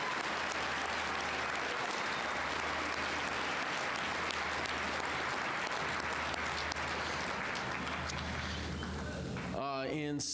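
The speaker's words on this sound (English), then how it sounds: "How about a round of applause for our JROTC department?" A school crowd at a Veterans Day assembly applauds steadily for the JROTC department, a sustained wash of clapping that ends abruptly as a voice begins speaking.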